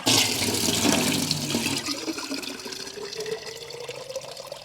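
A garden water hose runs in a yard by a garden bed, gushing loudly at first and then settling into a steadier, softer hiss as a rising tone builds beneath the flow.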